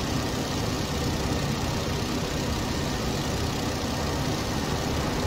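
Aircraft engine in the World War I flight sim Rise of Flight, a steady, loud, droning roar that holds constant throughout with no pauses and no voices.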